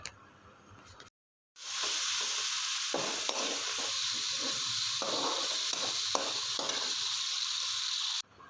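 Tomato puree and chopped green chillies are stirred into fried onions for an aloo baingan sabzi, giving a steady loud sizzle with scraping spoon strokes after a brief silent gap at the start.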